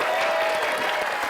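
Studio audience on a Take Me Out dating game show applauds for a contestant named Lina, a brief steady burst of clapping with a faint whistle or tone running through it.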